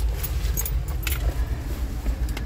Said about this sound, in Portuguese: pegar a chave.